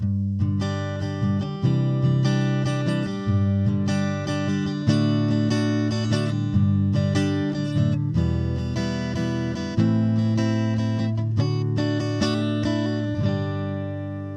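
Acoustic guitar through a Fractal amp modeler's cab, enhance and reverb blocks, picking sustained chords with a warm amplified tone and roomy reverb tail, steady and fairly loud throughout.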